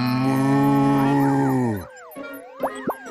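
Loud, sustained cow moo about two seconds long, rich with low harmonics. Cartoonish boing-like pitch sweeps follow it in a quieter tail.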